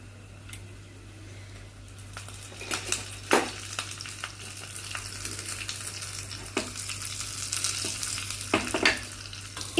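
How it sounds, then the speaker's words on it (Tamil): Mustard seeds and urad dal splutter in hot oil for Karaikudi-style coconut chutney tempering, a low steady sizzle with scattered sharp pops and crackles that grow busier midway, close and without voices. "கடுகு நல்லா பொரிஞ்சு வர வரைக்கும் நம்ம வெயிட் பண்ணுவோம்."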